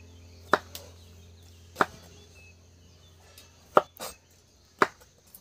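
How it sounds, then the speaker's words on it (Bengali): Cauliflower being cut with a knife in a home kitchen while making dal, several sharp isolated chops against a board with uneven pauses between them. "মা একদম সুন্দর সুন্দর করে ফুলকপি কেটে নিচ্ছে।"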